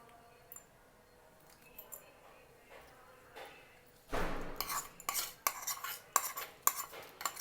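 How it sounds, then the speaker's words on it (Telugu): A spoon mixes cooled tempering into spicy amla avakaya pickle, with soft scattered taps at first, then a busier run of wet squishes and clinks against the container, quiet and close. "పోపు వేసేసి కలిపేద్దాం."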